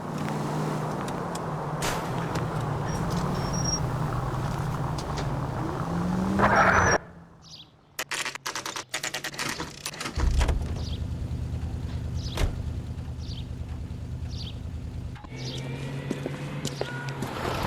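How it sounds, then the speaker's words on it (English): A car pulls out of a driveway and drives off in the L.A. Noire video game, a steady engine rumble under game ambience with a sharp cut partway through, followed by quieter scattered sounds and a returning motor drone. "That's the car, Cole. Just pulling out of the drive."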